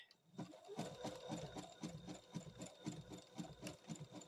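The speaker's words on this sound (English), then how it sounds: "And then we're just going to stitch it, lining up that edge in between our presser foot." A sewing machine stitches fabric for a quilted table runner with a fast, even mechanical whir and rapid rhythmic needle clatter, running continuously and close after a brief quiet start, fairly soft overall.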